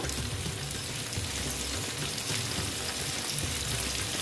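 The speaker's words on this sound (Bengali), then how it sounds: "সব মাছ একসঙ্গে ভেজে নিচ্ছি" Koi fish fry together in hot oil, giving a steady, dense crackling sizzle that stays even throughout, at moderate volume and with no voices.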